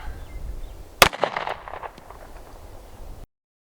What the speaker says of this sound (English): So we're going to start with 9mm and move our way up from there